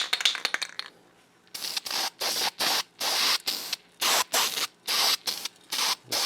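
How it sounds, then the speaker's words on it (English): A nearly empty aerosol spray paint can sprays a WWII German armour scale model in about ten short hissing bursts, each lasting around a third of a second, close and loud, after a brief quieter stretch at the start. "the spray can is just about at its life's end."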